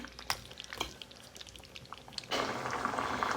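Hilsa fish curry in a home kitchen pot, faint bubbling and soft clinks at first, then a louder steady sizzling, bubbling hiss swells up near the end, close by with no talk.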